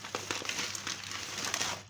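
A bag of freekeh is handled up close, and its packaging gives off a continuous run of crinkling and rustling with small irregular crackles, ending in a brief quiet moment.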